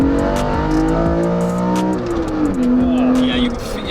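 A manual BMW E46 M3 engine revs hard and close, its raspy pitch climbing and falling as the throttle is blipped.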